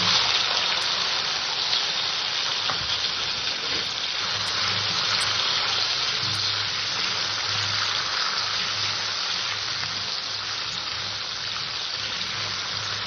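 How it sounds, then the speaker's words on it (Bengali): Chopped gathi kochu taro with kalo jeere frying in oil left over from frying brinjal, a continuous even sizzle and hiss that stays steady and close for the whole stretch. "গাঠি কচুটাকে আমি নেড়ে চেড়ে একটু ভেজে নেব"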